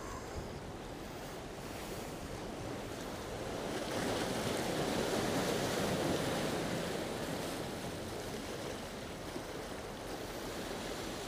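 Steady roar of ocean surf washing onto the shore at St John's, Newfoundland, swelling louder in the middle then easing, with some wind buffeting the microphone.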